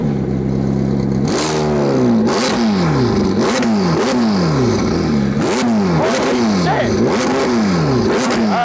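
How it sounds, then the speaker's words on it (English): A McLaren 765LT Spider fitted with IPE downpipes revs hard again and again, loud and close, each sharp rise falling away with exhaust crackle between the pulls. "Yo, you guys would never think that a McLaren sounds so good."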